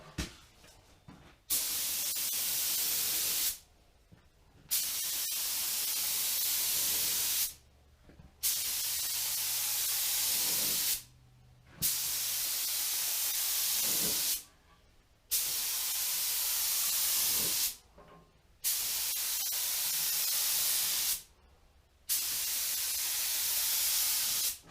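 Spray gun laying a final paint coat on a Datsun 280Z in an open garage with no paint booth, heard as seven loud, steady broadband hissing bursts of about two seconds each, separated by short pauses.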